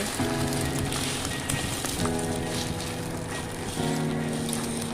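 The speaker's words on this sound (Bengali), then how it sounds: "এক চামচ মতো তেল দিয়ে এবার সেই গুলে রাখা ডিমটা দিয়ে আমি ভালো করে একটা অমলেটের মতো করে নিচ্ছি" Beaten egg frying in oil on a tawa for an omelette, giving a dense, steady crackling sizzle with a low hum underneath, loud and continuous.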